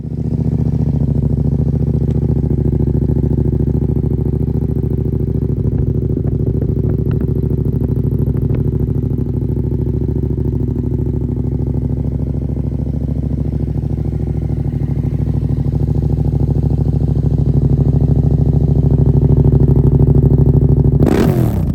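A Yamaha Ténéré 700 adventure motorcycle runs with a steady, loud, close engine and exhaust drone that holds an even pitch throughout, with no talking.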